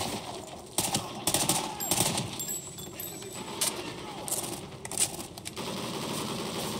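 Rapid automatic gunfire and bursts of shots in Call of Duty: Ghosts, rattling in uneven volleys over a steady battlefield din through the whole stretch.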